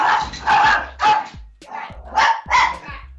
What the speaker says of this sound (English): Aw, dogs.